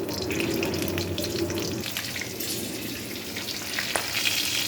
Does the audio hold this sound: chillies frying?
yes